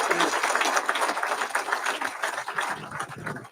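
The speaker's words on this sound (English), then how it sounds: "Can we give Dee Dee Wakeham a big, gigantic round of applause?" A room full of people at a graduation ceremony claps in sustained applause that gradually tapers off.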